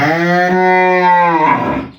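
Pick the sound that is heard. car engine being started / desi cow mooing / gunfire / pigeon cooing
desi cow mooing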